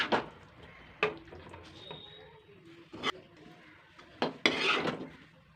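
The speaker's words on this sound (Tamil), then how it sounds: "இதை இப்போ நம்ம வந்து ஒரு சர்விங் பவுலில் மாற்றிடலாம்." Chicken roast is moved from a pan into a serving bowl: a metal spoon knocks and scrapes against cookware in several sharp, separate clinks with soft shuffling between them, fairly close and quiet overall.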